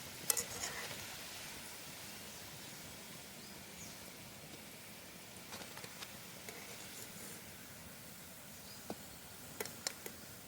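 Vaipan batter frying in hot oil, a soft, continuous low sizzle with scattered faint pops and ticks, a few sharper crackles near the start and end, no talking.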